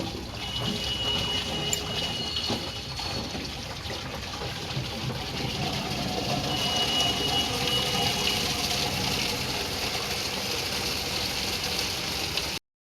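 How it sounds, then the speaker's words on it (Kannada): Water being let out indoors while cleaning a house, a steady rushing gush that runs evenly for several seconds with no one talking. "ನೀರು ಬಿಡ್ತಾವು."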